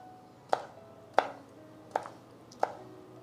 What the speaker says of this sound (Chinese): 再准备2个红辣椒，先切掉头部，同样切成辣椒圈